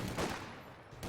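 A German MG42 machine gun rattles off a short burst in Company of Heroes 2, the shots blurred together in a brief, fairly quiet stretch of gunfire with no talking.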